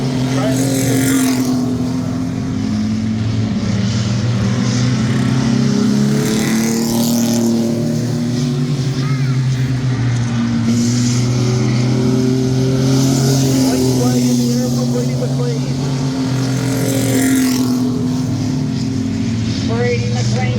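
O'Reilly Auto Parts mini trucks racing in a feature event at Midvale Speedway, engines droning loudly and steadily with rising and falling revs as the trucks lap, with an announcer talking over the noise throughout.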